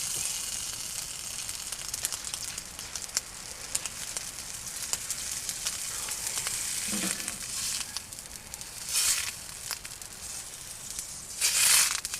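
Butter sizzling in a pan on a hot tent stove at a winter camp, a constant crackling hiss with occasional bursts of louder spitting and a wooden spatula scraping.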